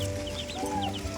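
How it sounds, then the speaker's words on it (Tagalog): Baby turkeys chirp in a brooder, a few thin rising peeps over a low background hum, close and fairly quiet. "Yan ang aming baby na mga pabo."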